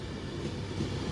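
A passenger train, class 390 for London Euston, rolls through Rugby station with a steady, fairly loud low rumble and rail noise that holds level throughout, with no voices.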